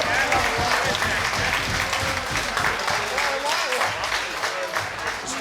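A crowd at a grappling tournament final applauds the runner-up, a dense, continuous wash of clapping and cheering with voices mixed in throughout.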